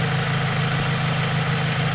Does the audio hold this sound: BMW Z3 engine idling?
yes